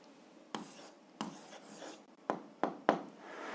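Pen or pencil writing an answer by hand on paper during an algebra exercise, heard as a few short, close scratchy strokes and taps spaced irregularly over a faint background hiss.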